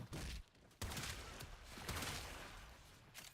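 Rapid bursts of Vectis Incarnon rifle fire in a video game, loud and dense with sharp onsets and a brief gap, sustained volleys continuing throughout with no talk over them.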